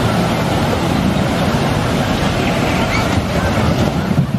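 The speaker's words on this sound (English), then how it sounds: "That's a big old splash." A raft on a theme park rapids ride at Universal churns through rushing water, a steady loud wash of spray and splashing with wind buffeting the microphone throughout.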